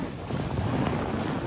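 A jet ski ridden on open water, with a steady rush of engine and spray blended with heavy wind buffeting on the microphone, continuous and close.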